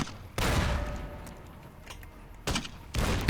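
A few gunshots ring out in a video game running on an Ayaneo Next Lite handheld, loud broadband bursts at the start, around two and a half seconds and near the end, with a quieter rumbling game ambience between them.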